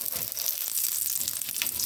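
Aloo paratha frying in white oil on a pan, a steady soft sizzle with crackling hiss, close and fairly quiet, no voices.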